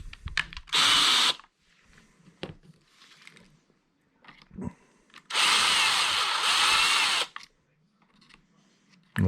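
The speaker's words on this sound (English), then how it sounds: "Okay, so we're going to drill that out to 3/16." A power drill bores out a brake line to 3/16 inch during a Tyco Power Torque repair, with two loud whirring bursts, a short one and then a longer one, separated by quiet handling noises.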